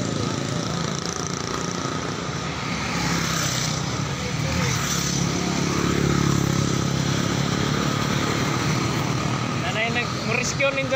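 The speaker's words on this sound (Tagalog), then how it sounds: "Motor." Motorcycle engine running through a long-distance endurance rally, a steady mid-level drone with voices talking over it throughout.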